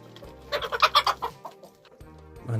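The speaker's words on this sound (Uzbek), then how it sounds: "Mana xo'roz." Rooster and chickens clucking close by in a farmyard, a quick run of rhythmic clucks in the middle followed by quieter scattered calls and another cluck near the end, no speech.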